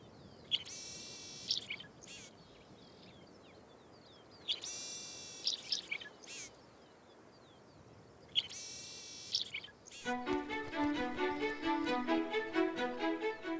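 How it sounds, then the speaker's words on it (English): A mourning sierra finch calls in the Chilean desert, giving three separate bursts of buzzy, trilled notes at a middle distance. Denser, more tonal song-like phrases follow near the end, all over a soft outdoor background hiss. "The mourning Sierra finch, one of the most common bird species in Chile, fills the desert with its characteristic call."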